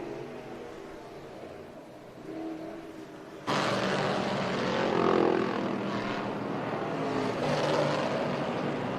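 Race cars lap the dirt oval at Port Royal during a Friday STSS Speed Showcase, a distant engine drone that suddenly swells louder as a car passes nearer, then holds a steady roar with rising and falling tones.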